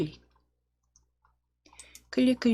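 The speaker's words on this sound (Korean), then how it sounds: "쉬프트 키 누르셔서 다 클릭하실 거예요" Computer mouse clicks while the Shift key is held, selecting shapes in PowerPoint: a few faint isolated clicks in near silence, with a voice talking before and after.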